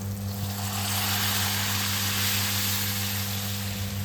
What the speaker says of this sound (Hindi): तो अब इसमें दाल को ऐड कर देंगे।